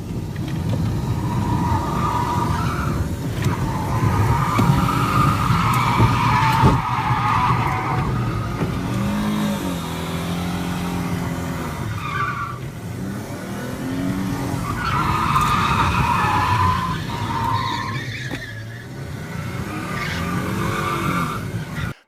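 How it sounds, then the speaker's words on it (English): Subaru WRX spins in place, its engine revving hard while the tires squeal and skid in long repeated bursts, loud and close with rumbling between the howls. "The next challenge was the Subaru spinning in place."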